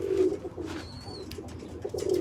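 Young pigeons coo softly with low, throaty rolling calls, close and continuous, with a faint thin whistle briefly over them.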